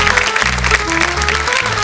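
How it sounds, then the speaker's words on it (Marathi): Studio audience applause on a Marathi women's game show, rewarding a contestant who scored five points; steady dense clapping filling the clip, with a sustained low musical tone underneath. "जोरदार टाळ्या होऊन जाऊ देत."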